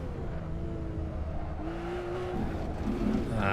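A Porsche 911R engine held at steady high revs on a race track in Assetto Corsa, a continuous close mechanical drone with a gear change and rising pitch near the end.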